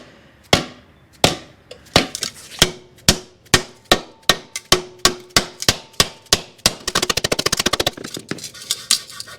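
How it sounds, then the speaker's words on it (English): Hammer blows on motorcycle sheet metal, a 1980 Suzuki GS450 part, ring out as sharp, close, evenly spaced metallic strikes, about a dozen single hits before a rapid flurry of quicker taps at the end, with no voices. "So we're going to take this to start in the middle and hammer that down."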